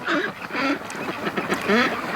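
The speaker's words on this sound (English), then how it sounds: "So just look at them quacking here." Land-locked free-range ducks quacking nearby, a few loud, raspy calls in quick succession with brief gaps, no talking over them.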